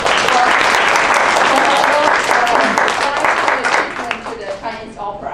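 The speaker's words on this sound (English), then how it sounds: "let's give her a round of applause" Loud, sustained applause from an audience at an International Women Award presentation in Toronto, honoring a longtime Cantonese songwriter; dense clapping fills the whole stretch, with a few voices mixed in, thinning slightly near the end.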